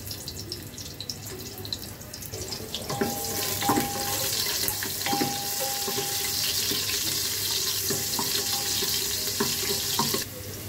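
Onion, garam masala and fennel seeds fry in hot oil as a tempering for chicken, giving a steady loud sizzle with intermittent clinks and scrapes of stirring that carry on throughout.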